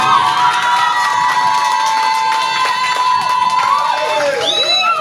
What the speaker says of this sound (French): Est-ce qu'on peut acclamer très fort pour vous?